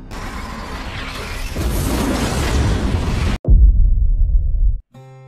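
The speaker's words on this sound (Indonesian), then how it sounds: "yang akhirnya membuat rumah itu meledak" A house explodes in a film scene: a loud, sustained roaring blast swells, then cuts abruptly to a deep, heavy rumble before falling quiet.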